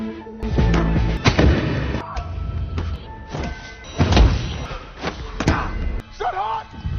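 A ball launching machine in a film fires balls at a volunteer, producing a series of sharp, loud thumps and bangs at uneven intervals, with voices talking between the shots.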